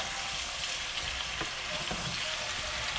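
Ingredients and paste frying in a pan for kumror chokka, a steady soft sizzle with faint stirring clicks throughout, quiet and close with no talking.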